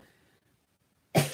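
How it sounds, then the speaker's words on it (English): A single loud cough bursts out abruptly after a near-silent pause, close and sudden. "I've still got this cough"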